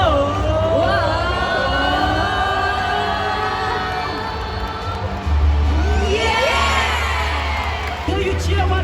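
A large crowd at Singapore's National Day Parade 2023 cheers and whoops continuously, a loud, dense roar with rising shrieks that fades briefly near the middle, then swells into a fresh wave of cheering.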